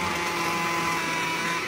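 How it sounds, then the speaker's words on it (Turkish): A blender purees frozen watermelon in a steady, loud, continuous whirring drone that holds evenly throughout, with no voices. "Şimdi blender'a ihtiyacımız var. Püresini çıkartacağız çünkü."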